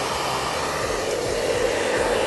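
Steady, loud whoosh of a hair dryer running continuously at close range while blowing hair into curls, with no voices over it.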